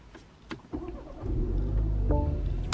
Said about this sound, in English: now I can go ahead and turn my car on